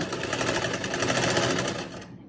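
Sewing machine running steadily while stitching the neckline of a garment, a close, continuous whirring hum that slows and stops near the end.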